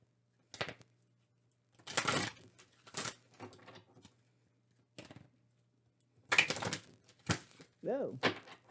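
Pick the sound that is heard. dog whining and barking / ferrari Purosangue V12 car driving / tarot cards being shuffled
tarot cards being shuffled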